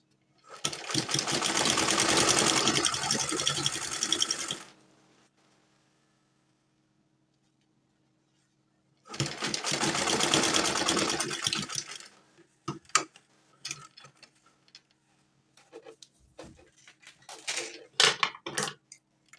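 Sewing machine stitching fabric for a V-neck top, running in two loud sustained bursts separated by a quiet pause, followed by scattered clicks and handling noises of the fabric and machine.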